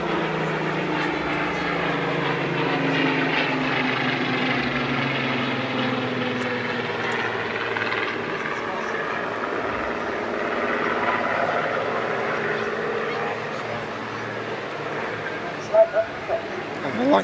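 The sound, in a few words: Avro Lancaster bomber flying at an airshow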